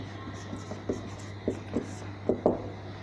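Pen writing a note by hand during a maths lesson on intervals, a series of soft scratchy strokes in short bursts, with a steady low hum beneath.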